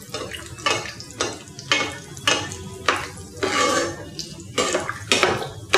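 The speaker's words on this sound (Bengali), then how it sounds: "আমরা কিন্তু এটা ডুবো তেলে ভাজছি" Layered paratha deep-frying in hot oil, with repeated bursts of bubbling and stirring or utensil scraping at a steady rhythm, close and moderately loud, with no talking.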